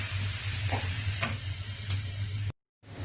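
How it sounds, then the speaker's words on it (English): Mackerel fish curry simmering in coconut milk in a pot, a steady close bubbling and sizzling hiss with a few soft stirring knocks, broken by a brief moment of silence near the end. "Now see, after putting the first milk, it started to boil."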